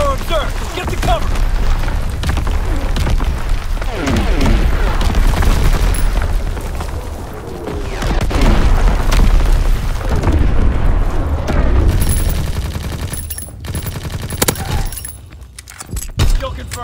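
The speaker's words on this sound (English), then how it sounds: "Incoming enemy artillery." An enemy artillery barrage in the World War II shooter Call of Duty: WWII rumbles with heavy low booms and continuous battle noise, loud and dense, with metallic clatter and a quieter patch near the end.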